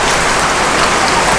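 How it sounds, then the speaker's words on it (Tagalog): Heavy rain from typhoon Paeng pours steadily in Bicol, a dense, continuous hiss of drops drumming on surfaces, loud and close, with no voices. "lakas ng ulan"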